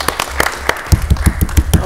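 An audience at a city council meeting in Mobile, Alabama breaks into a burst of close, thumping handclaps, following brief talk at the start.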